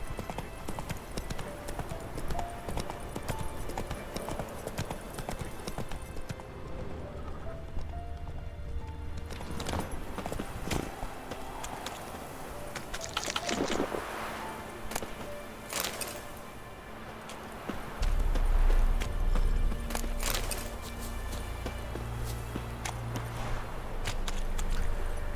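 Rhythmic clip-clop of horse hooves in The Witcher 3, a steady galloping beat running through most of the stretch over a low game ambience, with a brief neigh-like accent partway through.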